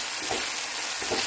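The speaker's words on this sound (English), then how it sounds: "Then saute the garlic and onion." Garlic and onion sauté in a hot pan with a steady, dense sizzle. Two soft stirring scrapes rise briefly above the frying.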